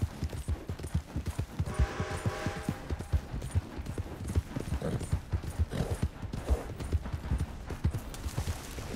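Rhythmic clip-clop of horse hooves at a steady trot in the video game Red Dead Redemption 2, close and fairly loud, with a brief whinny-like tone early on.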